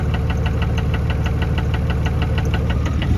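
A cheap Cummins diesel engine runs with a loud, steady knock, a fast, evenly spaced clatter over a constant close rumble with no talk.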